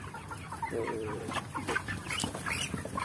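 Chickens cluck steadily and close by inside a poultry house cooled by blower fans and cooling pads, several birds overlapping in a continuous busy chorus.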